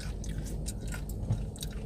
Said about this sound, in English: Do you guys hear that crunch? That is a good crunch on these fries.